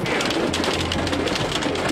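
Hail or heavy rain drums steadily on a house roof during a spring storm, a dense continuous patter filling the short stretch at close range with no voices.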